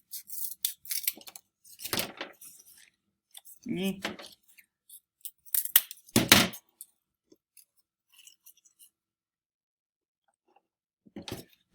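Scissors snipping through a paper design piece, a few close, sharp irregular cuts with quiet gaps between them and a faint final snip, no talk over them.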